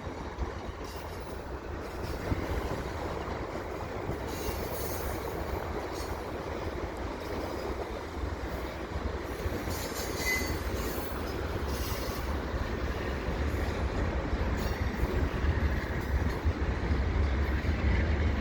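A CN double-stack freight train rolls steadily past at Dorval, its wheels rumbling and clattering in a continuous broadband roar with faint squeals, staying loud and even throughout with no talk.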